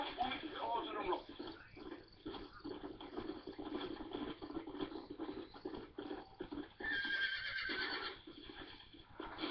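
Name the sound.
horses neighing and clip-clopping in video game Red Dead Redemption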